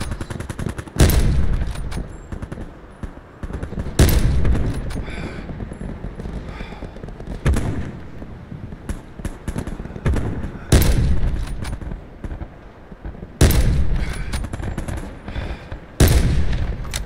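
Repeated loud bursts of gunfire from the Call of Duty Blackout video game, rapid volleys recurring every few seconds over a steady background of game ambience.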